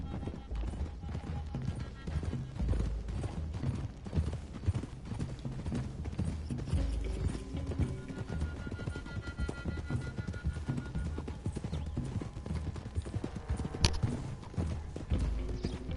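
Horse hooves clip-clop steadily along a road in a western video game as a group rides toward the hills, a continuous rhythmic trot of several horses with faint mechanical rattling underneath.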